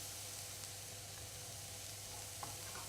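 Steady sizzling of vegetables frying in a frying pan, a constant crackling hiss with a low hum underneath and no voices.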